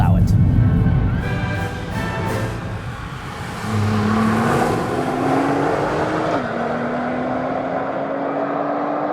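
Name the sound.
2017 Nissan GT-R Premium being driven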